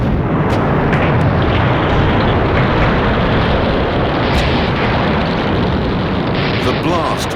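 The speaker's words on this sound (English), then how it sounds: "The blast wrecked the gate." A massive blast from HMS Campbeltown, an explosive-packed WW2 destroyer rammed into a stout dock caisson, wrecking the gate; a loud, sustained roaring rumble fills the whole stretch, dense and unbroken.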